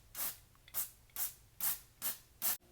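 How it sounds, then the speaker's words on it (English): An aerosol can of MAF sensor cleaner gives six short, evenly spaced hissing spritzes onto the hot wires of a Mazda2's mass airflow sensor, close and crisp with no talking. "The back of the can says to give the hot wires 10 or 15 spritzes with the can."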